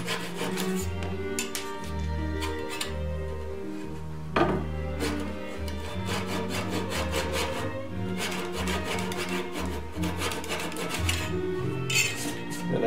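A hand saw cuts cherry wood pegs flush for a Chippendale handkerchief table, cutting on the pull stroke, with steady close rasping strokes repeating in an even rhythm throughout.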